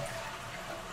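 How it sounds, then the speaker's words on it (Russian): A toilet flushes in a building under construction, a steady rushing of water close by, alone and without talk. "Вода спускается, но они спускается."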